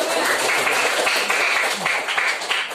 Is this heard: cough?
no